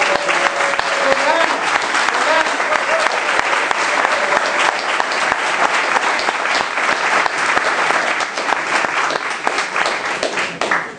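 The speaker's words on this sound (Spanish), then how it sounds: "Dale un aplauso al Señor" A church congregation claps loudly and steadily in praise to the Lord, a dense sustained wash of many hands over eleven seconds, with faint voices underneath.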